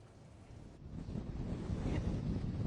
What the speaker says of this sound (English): extremely gusty up here